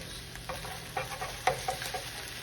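Hamburger patties frying in a pan while being flipped, a soft steady sizzle broken by several scraping spatula strokes and light clacks, close and fairly quiet.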